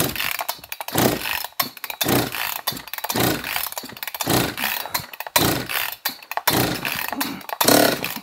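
A John Deere CS56 chainsaw engine sputters and catches in uneven bursts after being primed with fuel, loud and close, with rough pulsing revs that rise and drop without settling.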